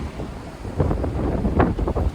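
Strong wind buffets the microphone outdoors on a clear day, a loud continuous rumbling roar with gusty surges, no voices.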